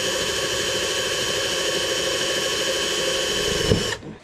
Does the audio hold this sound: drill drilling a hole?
yes